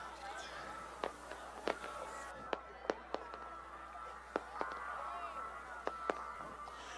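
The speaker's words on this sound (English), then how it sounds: "Here are the fireworks." Fireworks firing at a night water-ski jump competition on a lake, a series of sharp, fairly distant pops and bangs spaced irregularly over a quiet outdoor background.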